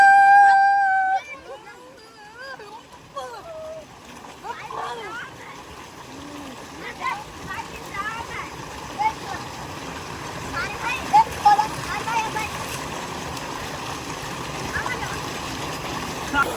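Children splash and play in water while bathing at a solar-powered tube well in a village, with continuous splashing and running water under lively voices and chatter throughout.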